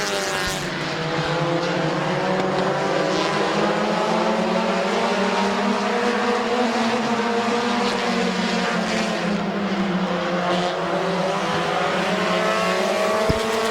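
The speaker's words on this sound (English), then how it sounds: "As the top 2 start to get some pressure from the 19 of Oliver" Race cars lapping at Midvale Speedway late in a race, a loud, continuous engine roar with slowly rising and falling pitch as the pack circles close by.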